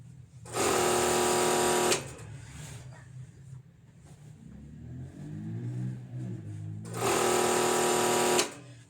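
A sewing machine stitching a quilt runs in two loud, steady mechanical bursts. Between them comes a quieter stretch with a low rumble and a soft hum.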